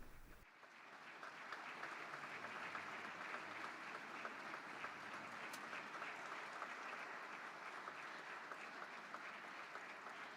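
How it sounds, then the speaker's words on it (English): Sustained applause from a large audience greets Pope Francis as he enters the Clementine Hall, a dense, steady clatter of clapping that swells within the first two seconds and holds evenly throughout. "We hear a round of applause for the Holy Father as he arrives."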